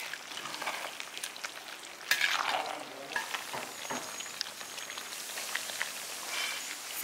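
Mutton varuval fries in separated oil, making a faint, crackling, rain-like sizzle. A spoon stirs through it with a few scraping strokes, and the sound stays quiet and close without speech.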